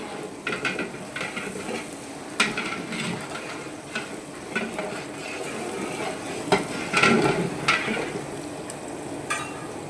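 Tomato rice cooks in a pan, with a soft sizzle under repeated stirring and the scrape of a spoon against the pan coming in irregular bursts close by.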